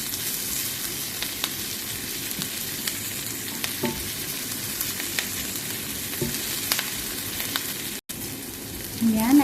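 Chicken pieces browning in a hot pan for chicken menudo, a steady close sizzle and crackle with occasional stirring clinks, no talking.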